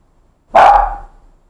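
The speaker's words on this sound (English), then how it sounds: "I love her, but she's very barky" One loud, close bark from a pet dog indoors, a single sharp burst with a brief fading tail and no other sound around it.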